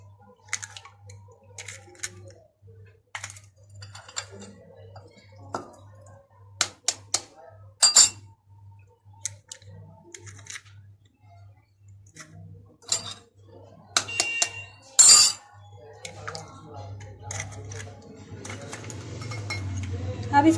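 Four eggs beaten by hand with a spoon in a bowl while making a homemade chocolate cake: irregular clinks and taps of metal against the bowl, in bursts and quicker toward the end, over a steady low hum.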